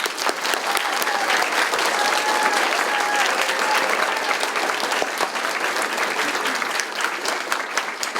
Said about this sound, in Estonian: Aitäh teile, teeme suur aplausi.